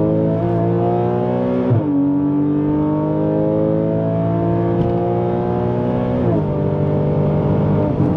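A Porsche Cayman S 3.4 with a straight-through exhaust revs loud and close, its engine note climbing through long pulls with quick breaks between them.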